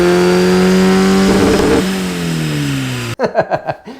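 A 190-horsepower turbocharged Mazda Miata engine holds a loud, high rev, then winds down before a quick run of sharp, punchy bursts close up.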